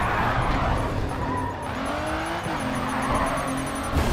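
Race cars in the driving game Grid 2, an Aston among them, roar steadily with engine tones rising and shifting as gears change, close and continuous with tire noise and no talk.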